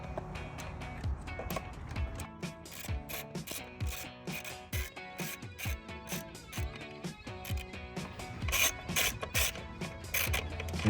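Ratcheting socket wrench clicking on bolts while refitting the coil packs of a 2011-2017 Ford Mustang GT, close and clear in quick bursts of rapid clicks with metallic tool handling between them, no talking.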